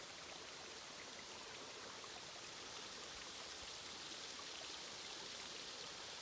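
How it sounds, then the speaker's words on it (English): Continuous rushing water of a snowmelt creek spilling over a small waterfall, a steady broadband wash with no voices. "it sounds like a raging creek"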